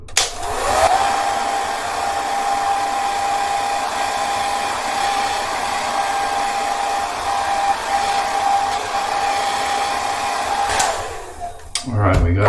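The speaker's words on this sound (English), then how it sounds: "hitting it with a blow dryer" Blow dryer on low heat drying a beard, a steady close whirring hum that runs continuously for about ten seconds and then cuts off, with no voices over it.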